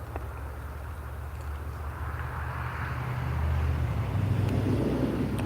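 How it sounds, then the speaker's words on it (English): Cars passing on a nearby road, a steady broad rumble that swells gradually toward the end as a vehicle approaches, with light wind noise and no talk. "The cars are scary."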